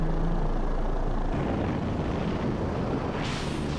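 A Mi-26 heavy helicopter's deep, steady rotor and engine roar, loud and continuous throughout, with no voices.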